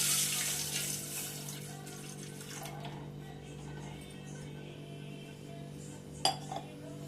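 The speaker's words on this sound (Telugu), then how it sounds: "ఇప్పుడు ఇందులో పాలు పోసేస్తున్నాము" Milk poured into a cooking pot gives a soft, faint stream of liquid at the start that tapers off, followed by a quiet kitchen hum and a brief clink near the end.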